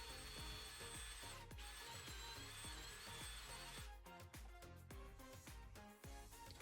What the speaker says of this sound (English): grab your drill and use a 5/16 drill bit to drill the pilot holes